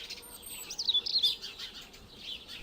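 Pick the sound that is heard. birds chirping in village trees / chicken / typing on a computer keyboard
birds chirping in village trees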